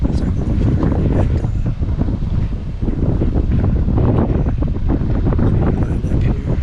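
Steady, loud wind buffets the microphone outdoors while work is done on an RV, a continuous broadband rumble with gusty surges filling the whole stretch.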